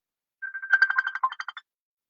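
A phone ringtone for an incoming call, a short, bright melodic burst of rapid electronic notes lasting about a second, clear and alone in silence.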